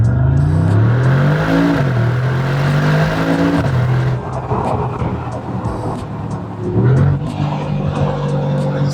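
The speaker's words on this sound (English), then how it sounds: "I'll let you guys hear the Akrapovič exhaust now. This is in Sports Plus mode." Mercedes G63 with an Akrapovič exhaust in Sports Plus mode revs loudly and close by, engine note climbing and dropping in repeated surges with a few sharp pops in between.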